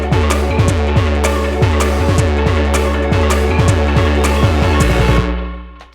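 Loud Nord Drum 3P square-wave synth drums pulse in a fast, dense pattern of buzzy pitched hits with short falling sweeps, running steadily for several seconds before cutting off, with no talking.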